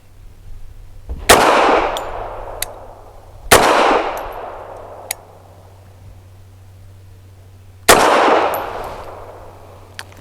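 A Bersa TPR 380 pistol fires 85-grain Winchester Silver Tip jacketed hollow point defensive loads: three sharp, loud shots at uneven intervals, each followed by a fading echo, with no talking.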